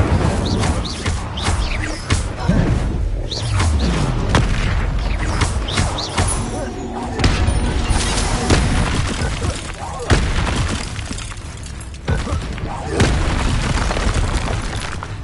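An Incendio fire spell is cast in Hogwarts Legacy, set within loud, continuous combat noise full of booms and sharp bursts with no pause.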